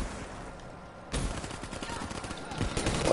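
First-person shooter game gunfire: a quieter opening stretch gives way to a sudden burst of loud rapid shots that carries on, with a rattle of fire and a final sharp crack near the end.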